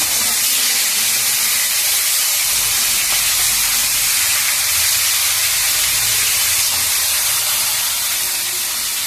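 Sea tangra fish rubbed with salt and turmeric fry in hot oil, making a loud, continuous, close-up hiss and sizzle with no speech.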